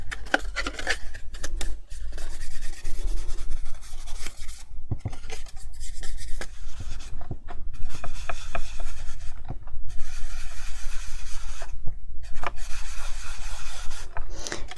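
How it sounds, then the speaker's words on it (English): Bristle brush dabbing and dragging black ink across the paper surface of a Halloween swinging tray treat box to distress it, a steady close scratchy rubbing with brief pauses throughout, no talking. "So let's get back to the black ink and the brush."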